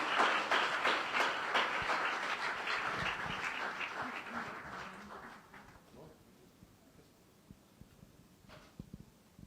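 A church congregation at an Urdu-language service bursts into sustained, dense applause that fades out after about six seconds, leaving a quieter hall with a few scattered sounds.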